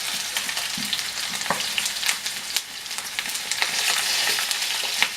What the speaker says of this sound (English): fry until they are golden brown.